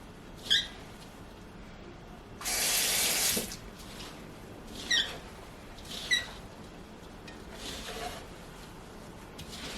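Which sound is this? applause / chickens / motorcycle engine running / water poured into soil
water poured into soil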